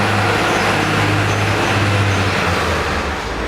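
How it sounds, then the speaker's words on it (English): A big lorry passes on a steep San Francisco street with a loud, close, low engine drone and broad road rumble that holds steady and then eases slightly. "So there's a big lorry going past."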